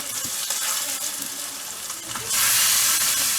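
Meat goes into a pan with tomato and oil and fries with a close, steady sizzle that swells louder partway through, with light stirring scrapes and no voices.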